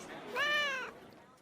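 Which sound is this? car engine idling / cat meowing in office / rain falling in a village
cat meowing in office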